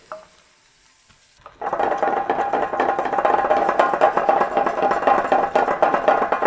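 An egg hits hot oil in a pan and erupts into loud, continuous sizzling and spattering that holds steady, close up, after a brief quiet lead-in.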